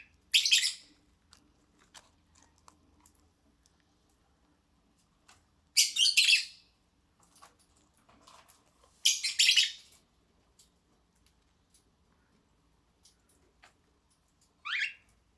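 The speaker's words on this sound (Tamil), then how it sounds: "டோலி கூண்டே கதி, அந்த புது பறவையே கதின்னு உட்காந்துருக்கான்" A pet bird in its cage gives short, sharp chirps in four separate bursts several seconds apart, clear and fairly close against a quiet room, with no voices.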